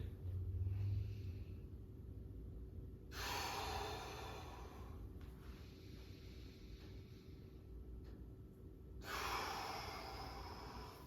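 Deep, slow breaths during a wake-up warm-up exercise, with two long, airy inhales and exhales standing out clearly over a steady low background hum.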